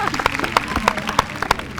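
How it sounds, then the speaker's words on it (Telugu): Audience clapping at a youth event, with a run of sharp, fairly even claps over murmuring voices and background sound. "ఒక్కసారి క్లాప్స్ కొట్టండి"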